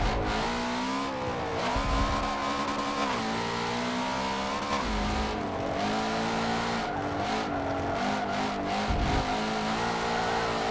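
Ford GT350R in the Forza 7 video game: a loud, close engine revving up and down through gear changes with bursts of acceleration and occasional tire squeal, no talk.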